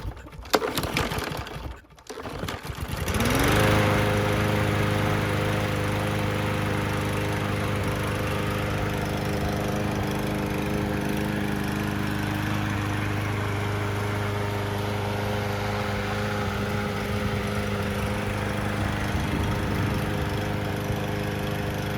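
Craftsman M110 push lawn mower with a freshly rectified carburetor, a brief cranking rattle before the engine catches and settles into a steady, loud, close running drone that continues unbroken to the end.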